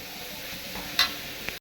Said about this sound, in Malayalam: ഇത്രയും സാധനം ഇട്ട് ഒന്ന് വഴറ്റിയെടുക്കണം.